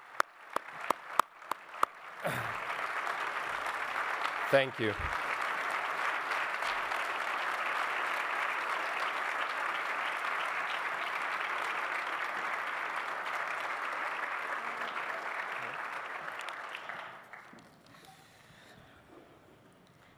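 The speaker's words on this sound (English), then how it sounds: "let's give her a big applause for her being here" Crowd at a national prayer gathering for the return of hostages breaks into sustained applause after a few scattered claps. The applause holds steady and full for about fifteen seconds before fading out. A brief voice is heard near the start.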